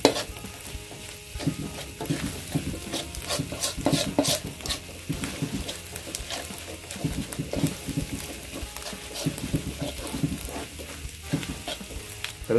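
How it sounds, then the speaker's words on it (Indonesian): Shallots, garlic, chilies and peanuts frying in oil for sambal, a steady close crackling sizzle with occasional stirring clinks throughout, no talk. "jadi kita menggorengnya tidak perlu lama-lama ya"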